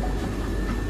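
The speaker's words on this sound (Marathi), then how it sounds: "we R getting out of the train" A steady, loud rumble of a Vande Bharat express train running toward Shirdi, a continuous roar that holds evenly with no breaks.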